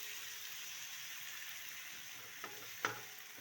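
Masala frying in a pan for kaleji and pota gives a faint, even sizzle throughout, with a couple of soft stirring taps near the end.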